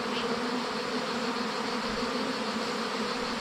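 Honeybee swarm gathered on a tree during a beekeeping swarm capture, a dense continuous buzzing drone that stays close and steady throughout with no talk.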